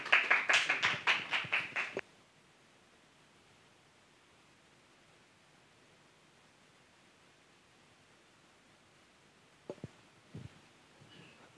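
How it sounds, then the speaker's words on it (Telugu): Congregation at a Sunday church gathering in Doha, Qatar, clapping in a brief burst of about eight loud, sharp claps over roughly two seconds, followed by near silence and a few faint knocks. "అందరూ కూడా చప్పట్లు కొడదాం"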